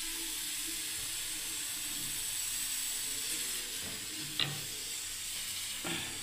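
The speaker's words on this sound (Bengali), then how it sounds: "এবার আমি তেল দিয়ে দিচ্ছি বন্ধুরা কড়াইয়ে" Hot oil sizzles steadily in a heated kadai as it is poured in, a continuous frying hiss with a couple of brief clinks near the end, no voices.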